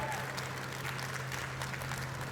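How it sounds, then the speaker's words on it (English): Audience applause at a live gaming event on stage, a steady dense wash of clapping heard from a distance, moderately quiet and continuous, with no voices over it. "Can we have a round of applause for Elle?"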